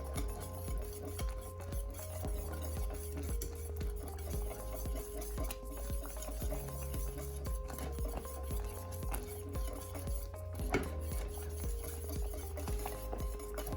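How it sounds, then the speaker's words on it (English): Whisking of a Jamaican plantain porridge mixture in a pot: a steady, continuous scraping and clinking of a whisk against the pot, close and moderately loud, with no talking. "Then we'll go back and whisk all of this together."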